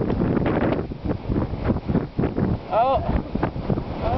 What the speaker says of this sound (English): this is serious wind